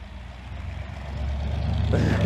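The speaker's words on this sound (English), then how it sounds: "that's a loud ass truck" A loud truck passes along a city street, its low engine rumble building steadily and swelling near the end as it draws close.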